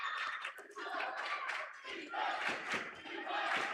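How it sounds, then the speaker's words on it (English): Home crowd at a Kohler girls' basketball sectional playoff game cheering and shouting, a surging roar of many voices in a gym that swells and dips in waves, heard at a distance. "Kohler's crowd starting to get into it a little bit"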